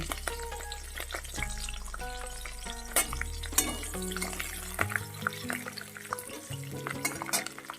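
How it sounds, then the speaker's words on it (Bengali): Steady crackling sizzle of potato and garlic frying together in oil, with occasional stirring clinks and a low droning tone underneath. "আলুটা রসুনটা সব একসঙ্গে ভাজা হোক"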